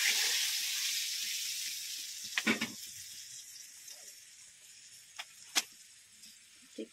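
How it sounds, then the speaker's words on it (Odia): Chicken fries in a home kitchen with a soft continuous sizzle, broken by a few sharp clinks and stirring knocks from nearby utensils. "ରୋଷେଇ ଚାଲିଛି"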